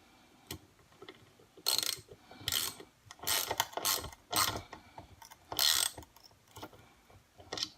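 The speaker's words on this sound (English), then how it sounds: "And we have the 3/8 ratchet right here." Bursts of rapid ratchet clicking, a 3/8 socket wrench with a 6-point socket cranked in several short runs with pauses between, close and fairly crisp.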